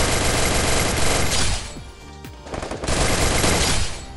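An MP40 submachine gun in Free Fire fires in rapid, loud automatic bursts. A short pause mid-way breaks the sound into two long strings of fast shots, with no talking over it.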